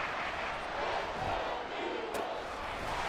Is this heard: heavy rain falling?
no